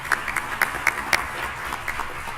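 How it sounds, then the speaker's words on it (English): Sparse applause from an audience at a school district community safety forum, scattered individual claps standing out over a faint room murmur, fairly quiet and brief. "if we can give a big round of applause to all of our panelists"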